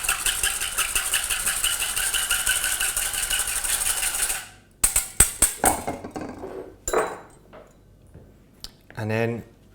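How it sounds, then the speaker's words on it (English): A whisk beats olive oil, vinegar and salt in a bowl, a dense rapid clatter for about four seconds, followed by scattered clinks and knocks against the bowl. "Give them a quick whisk."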